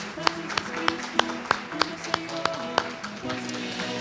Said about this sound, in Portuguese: Quem é que pode dizer amém com palmas ao Senhor?